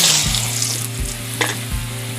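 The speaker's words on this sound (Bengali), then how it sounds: "এবার আমি আলুগুলো ভেজে নেব।" Potatoes fry in oil seasoned with salt and turmeric, a steady close sizzle with a few brief bursts of scraping or stirring, no voices.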